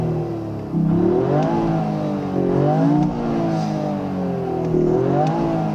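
Toyota GR Yaris engine heard from inside the cabin during circuit driving, a steady revving drone that rises and falls in pitch with repeated acceleration pulls and shifts.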